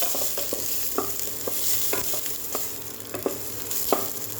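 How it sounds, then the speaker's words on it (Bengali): Onion frying in a little oil, a continuous soft sizzle broken by repeated sharp spatula taps and scrapes against the pan at an irregular rhythm, close by and without talking. "দেখো, প্রথমেই আমি পেঁয়াজ দিচ্ছি,"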